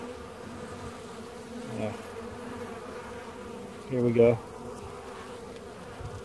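Honeybees buzz at an open hive during an inspection on a warm day, a steady close hum that swells briefly, while someone speaks a few words.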